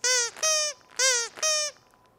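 Four squeaks from a capybara rubber squeeze toy, each a bright, wheezy honk, in two quick pairs with short pauses between, loud and close.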